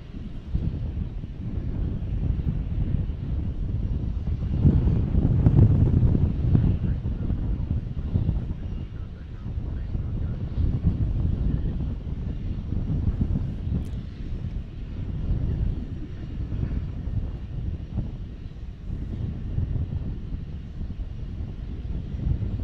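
A jet airliner lands on a runway in a firm south wind, its engine roar swelling and easing through strong gusting wind buffeting the microphone, with no separate tyre screech standing out.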